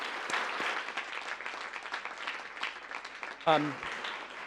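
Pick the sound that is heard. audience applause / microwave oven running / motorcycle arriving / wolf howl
audience applause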